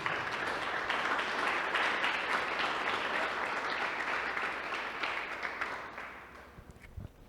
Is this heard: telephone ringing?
no